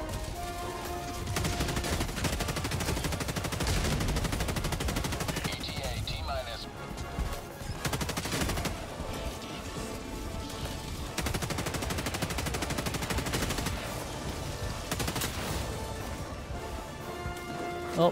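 Continuous laser weapon fire from the LAS-16 Sickle in Helldivers 2, loud and sustained across most of the stretch with brief dips, amid battle noise and explosions.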